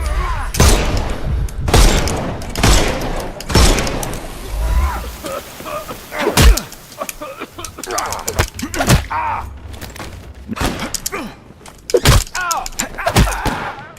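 Gunshots ring out in the video game Sherlock Holmes Chapter One as a series of loud, sharp bangs spread irregularly across the stretch, with a voice talking in between.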